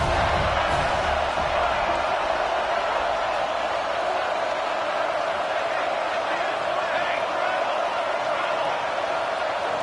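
Crowd noise fills a college football stadium at a UCF versus Colorado game, a dense, loud, sustained roar of cheering on third down, steady for the whole stretch.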